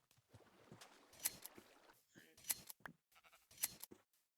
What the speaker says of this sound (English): And let's find some sheep.